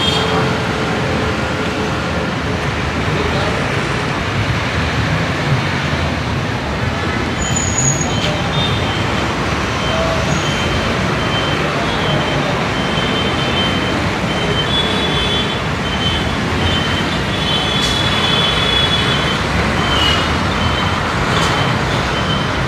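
Traffic flows through the Karaswada four-road junction in Goa, with a continuous rumble of buses, trucks and cars, occasional horn toots and beeps, and some voices in the background.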